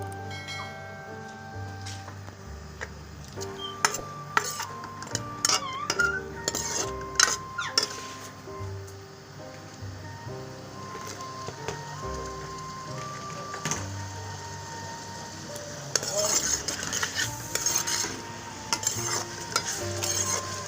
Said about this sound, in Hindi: अब मैं इसमें प्याज शामिल कर रही हूँ।